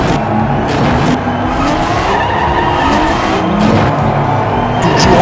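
Diecast miniature race cars rattle and whir along a track in a Group 6 race, a loud, continuous rolling rumble with shifting squeals.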